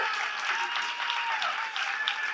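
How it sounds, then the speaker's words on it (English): An audience at a Moth storytelling slam applauds the winner with brisk, dense clapping that runs unbroken for a couple of seconds. "Keep applauding, Lisa."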